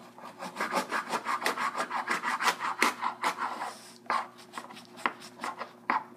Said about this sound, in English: Put the knife on the buffers and cut through the side of the apple like this